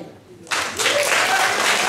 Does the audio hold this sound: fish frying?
no